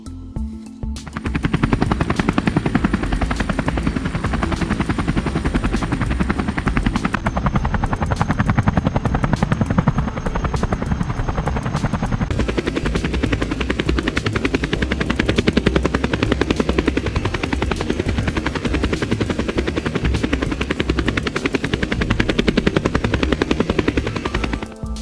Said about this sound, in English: That is how you start an R44 Cadet.